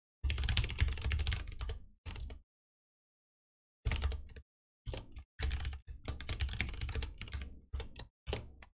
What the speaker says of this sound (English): I have a quieter keyboard